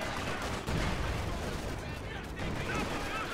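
Dense gunfire and explosions from the WWII strategy game Company of Heroes 2 on the Lublin map fill the clip, with steady bursts of rifle and machine-gun fire forming a continuous loud barrage.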